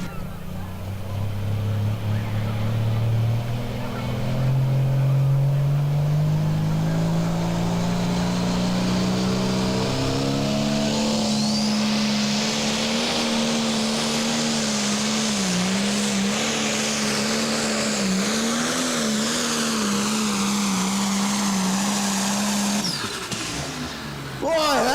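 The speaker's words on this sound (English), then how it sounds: "Last tractor to go, Adam Stevens, the slow ride out of Shannon," A pulling tractor roars through a run at a tractor pull in Shannon, Illinois, its engine note rising steadily and then holding a loud, sustained drone before cutting off near the end, with an announcer talking over it.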